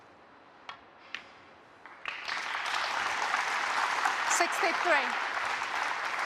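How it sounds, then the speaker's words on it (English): Snooker crowd breaks into sustained applause for a frame won in a single visit at the World Grand Prix, starting with a few isolated claps before swelling into steady clapping, with a voice briefly audible. "the applause is for the frame being won in a single visit"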